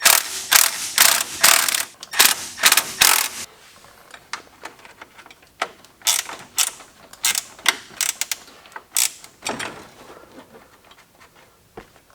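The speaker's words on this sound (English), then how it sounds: "Now just to tighten them down." Fog light mounting bolts on a Hummer H3 being tightened, with bursts of ratcheting clicks in rapid runs, loud and close, separated by short pauses and quieter handling noises.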